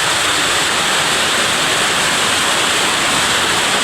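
Steady, dense rush of falling water from a nearby waterfall, Uwan-uwanan Falls, loud and unbroken for the whole stretch with no voices.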